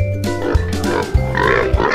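A pig grunts close by, a few short low grunts at a steady rhythm over a background of other farm noise.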